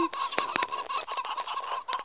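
Rapid clucking and honking chicken calls from a Roblox game repeat in a busy, uneven rhythm, loud and close, with sharp clicks mixed in.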